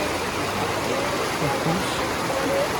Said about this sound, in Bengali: জলের ওয়াটারফলস এখান থেকে জল বেরোচ্ছে